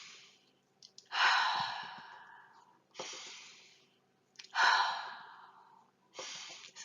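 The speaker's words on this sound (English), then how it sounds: "And let's breathe." Slow, deep breaths during a guided breathing exercise: two long drawn-in inhalations, each followed by a softer exhale, in an even rhythm, close and quiet with no talking.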